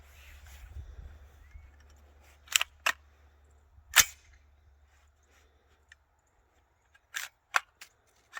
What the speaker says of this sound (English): First, I've got a dummy round. We're going to make sure that the gun chambers and ejects before we actually do a test fire. So we'll put the mag in here.